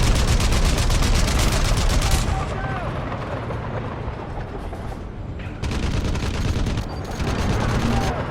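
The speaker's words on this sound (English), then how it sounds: "You can hear him firing it every so often." Loud, dense gunfire from a tank's turret-mounted machine gun in the video game Crysis, with sustained rapid bursts and heavy rumbling battle noise throughout, briefly easing mid-clip before resuming.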